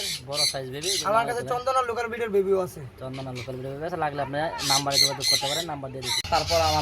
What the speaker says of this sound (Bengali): কাছে রয়েছে ইন্ডিয়ান রিং টিয়া পাখির বেবি দেখেন